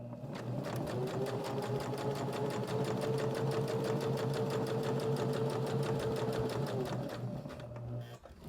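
A sewing machine stitches a pocket onto a fabric journal cover, running at a steady fast pace with a close, even mechanical whir and rhythmic needle clatter for about seven seconds before stopping.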